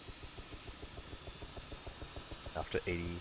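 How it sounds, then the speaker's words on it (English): A Chinook helicopter's rotors in ARMA 3 beat in a fast, regular low thumping that stays close and steady, with a brief burst of a voice near the end. "that rear rotor on the other Chinook is so close"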